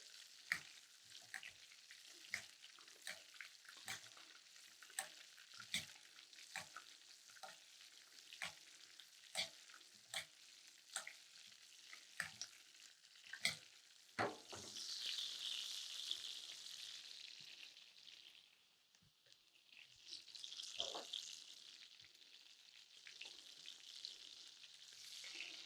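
Steak fillet fries in butter in a pan, a soft steady sizzle punctuated by regular sharp taps and scrapes of a utensil, the sizzle swelling louder in bursts toward the end; no talking.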